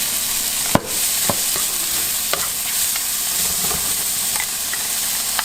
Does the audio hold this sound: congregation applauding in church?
no